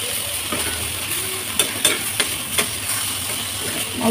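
Washed chepa shutki dried fish gently stirred in a pan, a light frying sizzle with several soft spatula scrapes and clicks spaced irregularly, close by and without talk.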